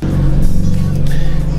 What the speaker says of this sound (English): my car is way too loud